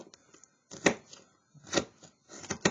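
A Mora knife shaves slicing cuts into a wooden stick while carving a clothespin chip clip: three close, dry scraping strokes spaced about a second apart, quiet and crisp, with small taps between them.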